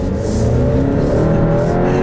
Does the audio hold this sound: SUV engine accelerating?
yes